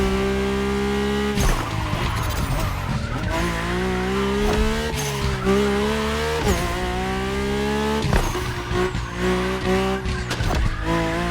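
The Mercedes-AMG One hypercar drives in The Crew Motorfest, its high-revving engine whining loud and continuous through repeated gear shifts, with tire squeal mixed into the near, steady roar.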